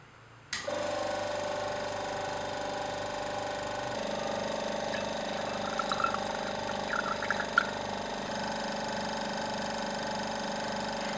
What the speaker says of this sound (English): We filtered this off and got it dry on the pump.